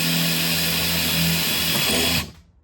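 A power drill whines at high speed with a steady, grinding buzz, drilling through the fiberglass clam of a Lotus Elise S1, then abruptly stops and fades out.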